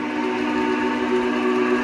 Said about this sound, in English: that whistle, you just can't beat the sound file that they used for these.